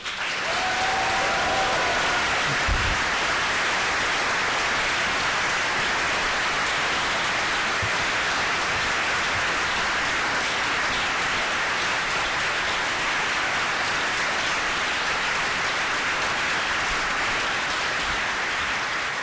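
Loud, sustained audience applause fills the room throughout, a dense steady roar of clapping at a Green Party political speech, with no pause and a brief vocal sound near the start.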